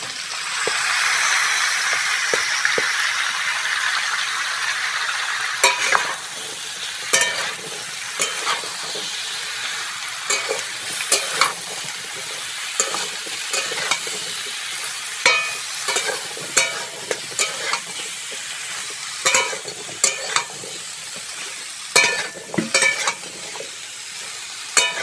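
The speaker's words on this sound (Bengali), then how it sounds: "ঝিঙে আর আলুটা ভালো করে ভেজে নিয়েছি" Ridge gourd and potato pieces fry in a pan with a steady sizzle, broken by repeated scraping and clattering stirs of a spatula throughout, close and moderately loud.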